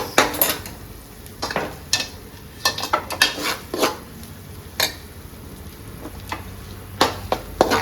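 Fish being stirred and mixed in a pan while cooking at home, with a run of scattered metallic scrapes and clinks against the pan at irregular intervals under a soft frying hiss, with no talk.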